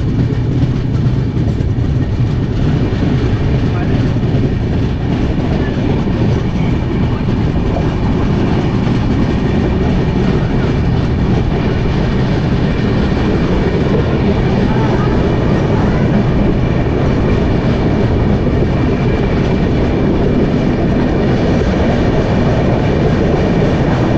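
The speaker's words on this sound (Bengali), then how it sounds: "চলো শেওড়াফুলি ছেড়ে দিল আমাদের ট্রেন" An LHB-coach Howrah–Dhanbad Black Diamond Express running at speed after leaving Sheoraphuli station, with a steady, loud rolling rumble and faint rhythmic wheel clatter that continues unbroken throughout.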